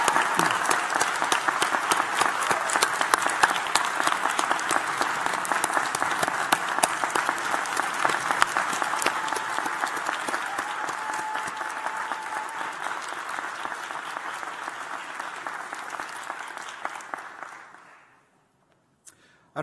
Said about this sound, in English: So I think we owe them a round of applause for their support.